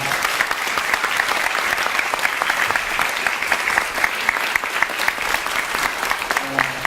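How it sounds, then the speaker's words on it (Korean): An audience at a talk breaks into steady, dense applause that carries on throughout at an even level, with a faint voice underneath. "큰 박수 한번 부탁드리겠습니다"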